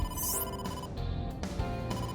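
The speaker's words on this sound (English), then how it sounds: "Oh, Date, incoming call." An incoming call ringtone in the video game AI: The Somnium Files, a bright electronic ring repeating in short bursts over a steady musical background, fairly quiet and close, with no speech.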